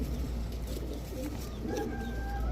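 Soft, low cooing of racing pigeons close by over a steady low hum, with a few brief higher chirps near the end.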